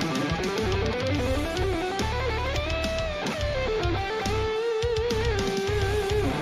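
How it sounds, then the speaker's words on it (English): Rapid shred-style electric guitar picking with a downstroke-escape technique, dense fast lead lines with bends and sustained notes playing loud and continuous over a full backing track with bass and drums, no talk. "Here it is with this new downstroke escape"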